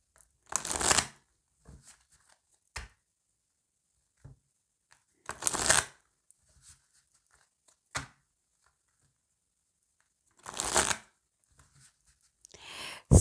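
Oracle cards rustle and slap softly as they are shuffled and laid down in a few separate short bursts, with quiet gaps between each handling sound.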